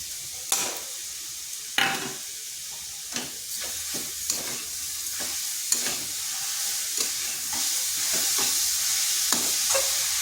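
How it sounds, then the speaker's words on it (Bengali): Grated carrot and sugar are stirred in a pan for carrot laddu, giving a soft steady sizzle punctuated by sharp spoon scrapes and taps at irregular intervals. "চিনিটা ভালো করে গাজরের সাথে মিশিয়ে নেব।"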